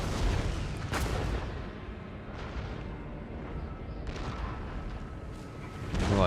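Exploding shells fired by artillery in Empire Total War, a dense barrage of deep booms and crackling impacts rolling continuously at mid distance, with heavier bursts near the start and end and no talk.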